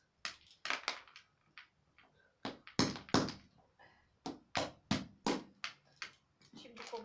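Walnuts cracked by hitting them, a series of sharp knocks and cracking impacts at an irregular rhythm, close and fairly loud, with small rustles between strikes.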